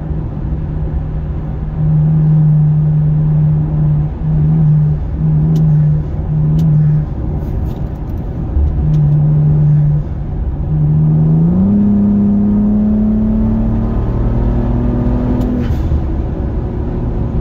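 A Ford Bronco Raptor drives close by with a steady loud engine drone that surges and climbs in pitch as it revs and accelerates, with no talking.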